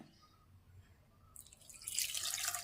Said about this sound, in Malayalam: ഇതിനകത്തൊരു സ്വല്പം വെള്ളം കൂടെ ഒഴിക്കണം തേങ്ങയ്ക്കകത്ത്